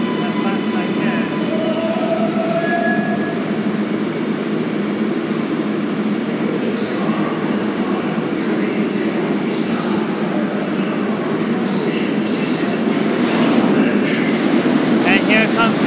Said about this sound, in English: here's Manhattan bound 4 local train